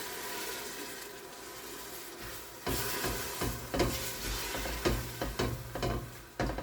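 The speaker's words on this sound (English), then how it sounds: "And you just take your spatula and work that around the bottom to make sure that it gets anything that could have been sticking to your pot." Spatula scraping and stirring chicken and rice soup around the bottom of a pot, a quiet wet simmer followed by louder irregular scrapes and sloshing strokes close by.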